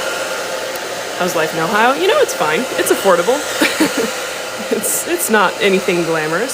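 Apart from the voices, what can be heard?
hair dryer running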